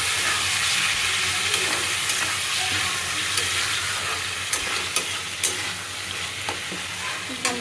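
Potatoes and tomatoes fry with masala and ginger-garlic paste in a pan, giving a steady close hiss and sizzle broken by several sharp spatters and clinks from stirring.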